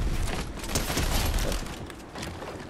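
Gunfire in a Fortnite match crackles in a dense, rapid burst of shots that stays loud and busy throughout, with no speech over it.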